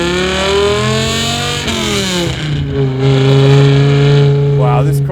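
A V10-swapped BMW E46 M3 revs hard, its engine note rising and falling through a couple of sharp, loud pulls with a high, tonal wail, while voices talk over it.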